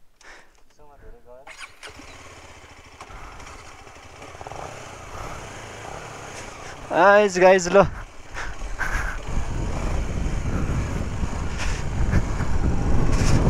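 An adventure motorcycle's engine starts and builds into a loud, rough rumble in the second half, after stretches of people talking nearby.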